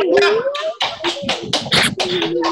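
A group of children clap their hands together in quick, uneven bursts, close and fairly loud, while voices talk and call out over the claps.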